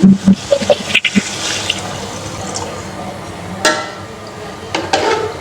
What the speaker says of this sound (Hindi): अब हम इसमें शामिल करेंगे यखनी, जो हमने तैयार की थी।